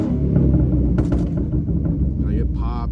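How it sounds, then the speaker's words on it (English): Stanced car with a straight-piped exhaust idling, a loud, steady low rumble that throbs unevenly, heard up close with brief background noises on top. "it's a pretty fucking loud car, and it, like, even just sitting here and idle, it's rocking"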